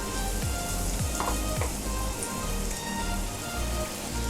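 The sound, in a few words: bhalla (lentil fritter) batter sizzling as it fries in oil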